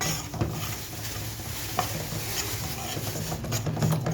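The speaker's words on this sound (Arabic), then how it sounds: "هفضل اقلب لغايه ما اطلع الايه الرطوبه من الدقيق اهو." Spoonfuls of flour stirred in a dry pan to drive off moisture while making homemade tahini, giving a steady close scraping and soft patter with occasional louder scrapes.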